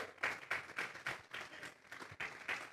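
A church congregation claps in unison as an offering of praise to God, about a dozen sharp, even claps in a steady rhythm, fairly faint and with no voices over them.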